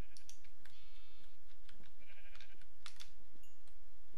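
Sheep in Minecraft give a few short, nasal bleats at moderate volume, with light keyboard-like clicking scattered around them.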